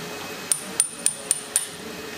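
An engine valve guide is driven into a cylinder head during a BMP engine rebuild, giving five sharp, evenly spaced metallic taps of ringing hammer blows, close and with no talk.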